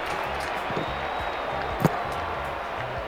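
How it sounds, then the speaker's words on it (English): Stadium crowd in the baseball video game Super Mega Baseball 2 lets out a steady, low murmur of disappointment, a continuous distant hum with one brief sharp knock partway through. "Crowd didn't like that. You can hear the disappointment."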